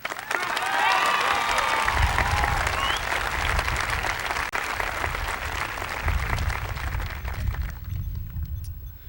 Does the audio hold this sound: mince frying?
no